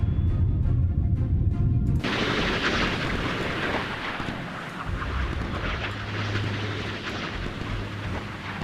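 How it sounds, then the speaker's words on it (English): Naval missiles launching in the Sea Power warship game, a sharp onset followed by a sustained roaring rush of rocket exhaust that fades slowly, with no voices over it. "it's just detecting their missiles firing"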